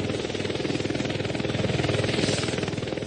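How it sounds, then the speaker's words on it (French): Small backpack helicopter engine runs in a steady, fairly quiet buzzing whir with a rapid rhythmic pulse, continuous throughout with no voices over it. "Un petit hélicoptère, mais qu'est-ce que ça veut dire?"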